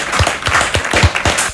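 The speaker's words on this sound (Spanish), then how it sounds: "Un aplauso." A small group claps in short, irregular bursts, close and fairly loud, for a brief moment.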